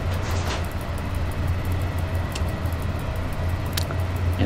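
An EU07 electric locomotive hauling a nine-car TLK passenger train in the SimRail simulator, taking power to accelerate, with a steady low motor hum and rumbling rolling noise plus occasional faint clicks, close and continuous without speech.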